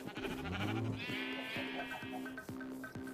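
Sheep bleat in a video game, a few wavering nasal calls over steady background game sounds, close and moderately loud with no talk.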